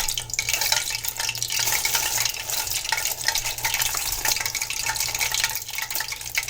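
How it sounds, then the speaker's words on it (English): Dense, crackling sizzle of water hitting hot frying oil, loud and continuous with no talking, bright spattering pops throughout. "And if it starts sizzling and bubbling, that means it is hot and it is ready to cook well."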